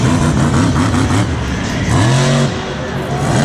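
The Iron Warrior monster truck's engine roars loud and close during a Monster Jam stadium run at MetLife Stadium, with the revs rising and falling and a strong surge around the middle.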